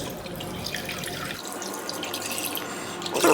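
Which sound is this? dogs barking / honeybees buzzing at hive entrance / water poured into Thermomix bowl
water poured into Thermomix bowl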